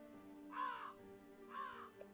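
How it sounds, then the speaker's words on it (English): Birds caw in a post-apocalypse city builder video game, two separate harsh calls about a second apart over a low steady hum, moderately close. "There's birds flying across the screen."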